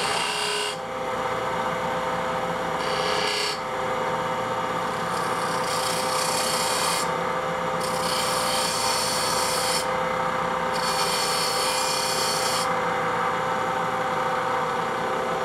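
A spindle gouge cuts a fillet and V groove in wood spinning on a lathe, giving a close, steady scraping rasp broken into short strokes with brief pauses between cuts.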